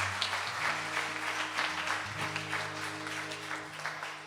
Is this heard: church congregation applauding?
yes